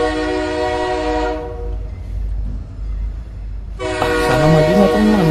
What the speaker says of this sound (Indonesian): Kereta api remote RC berjalan di lintasan yang menggantung ini.